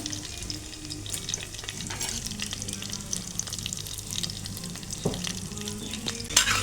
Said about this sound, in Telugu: కొంచెం ఇంగువ వేసాను వేసిన తర్వాత ఒక రెండు మిరపకాయల్ని వేసాను ఇవి కొంచెం వేగనిద్దాము